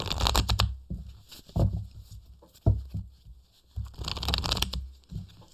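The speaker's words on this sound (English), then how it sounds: "Let's give the Aquarian deck a good shuffle." A deck of tarot cards is shuffled by hand in a few bursts of riffling and rustling, close and fairly quiet, separated by brief pauses.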